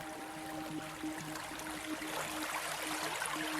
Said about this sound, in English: Listen, can you hear the creek water as it tumbles over rocks, winding its way across the beach and heading towards the ocean?